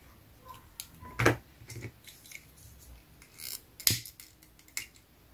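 Scissors snipping through card stock for a small ATC craft card, two sharp crisp cuts about two and a half seconds apart with faint handling rustles between, close and alone without talk.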